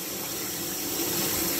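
Water is poured into a container to soak maple pea seeds, giving a brief, steady close-up gush and splash with no speech over it.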